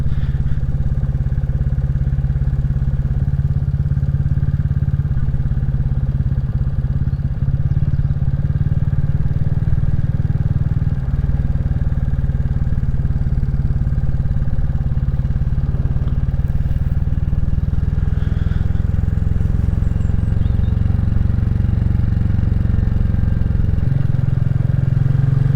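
Royal Enfield Classic 350 motorcycle riding along country lanes in mid Wales, its low steady engine drone continuous and close throughout with wind rumble.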